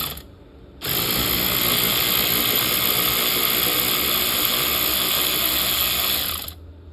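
A ratchet wrench on a flexible extension turns a nut on a 2003 Dodge Dakota V8 during a water pump job, a steady rapid clicking and whirring, close and loud, running continuously for about six seconds after a brief pause.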